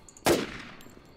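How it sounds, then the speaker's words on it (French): A single loud gunshot from a video game battle royale match, sharp crack with a short decaying tail, heard alone without speech. "Là, j'ai envie de prendre ma mitrailleuse en fait."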